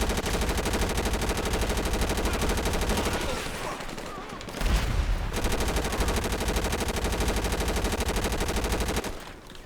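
Continuous rapid automatic gunfire in a Grand Theft Auto V military operation mod, loud and close, with a short break midway and a heavy blast before the firing resumes.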